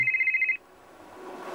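A mobile phone ringing in a studio, loud and close, with a rapid pulsing electronic trill that repeats about eight times and then cuts off abruptly, leaving low room noise.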